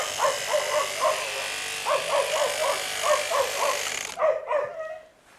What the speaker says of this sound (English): They're shears, and they're used to cut the sheep's coat.